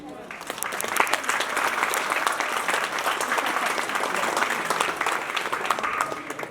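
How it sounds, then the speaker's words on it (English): An audience claps steadily at a school welcome program for visiting guests, a dense even patter of many hands that holds throughout, with a voice talking faintly beneath the clapping. "Your clapping sounds a little bit louder than this, okay?"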